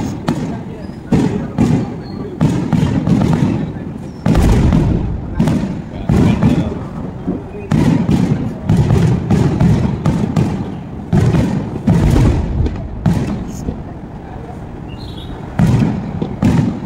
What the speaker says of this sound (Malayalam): വെടിക്കെട്ട് അങ്ങോട്ട് പൊട്ടി പൊട്ടി വരട്ടെ